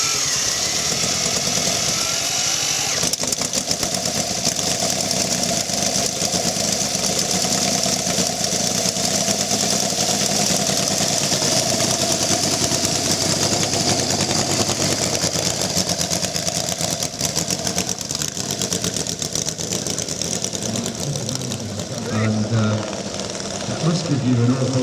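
A 1912 five-cylinder radial-engined board track racer motorcycle runs steadily for the whole stretch, a loud, continuous rough mechanical drone heard up close, with people talking over it at times.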